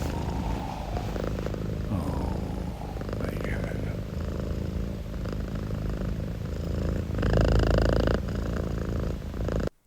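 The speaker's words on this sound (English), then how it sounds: "To get his purring frequencies." A cat purrs right against the microphone in a radio studio, a close, low rhythmic rumble with people talking quietly around it.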